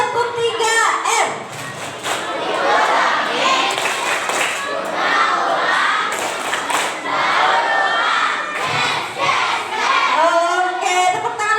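Schoolchildren at an Islamic boarding school perform a rhythmic group clap chant in a classroom, loud and continuous with shouting voices and cheering layered over the claps throughout.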